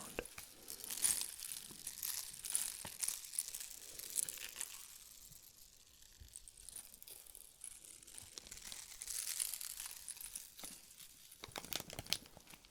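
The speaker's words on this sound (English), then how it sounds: "Maybe do a bit of crinkling." Close crinkling and crumpling of material for ASMR, soft irregular rustles and crackles that swell and fade, with a quieter stretch in the middle.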